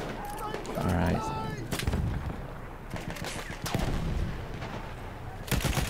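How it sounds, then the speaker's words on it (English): Grenade explosions in Battlefield 1 multiplayer combat, heavy booming blasts mixed with gunfire and battle noise, loud and dense throughout, with some faint voice chatter underneath. "let's see if we can send some grenades"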